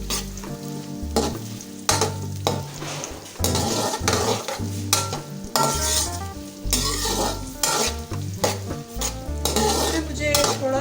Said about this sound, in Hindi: अब हम अनियंस को ब्राउन कर लेंगे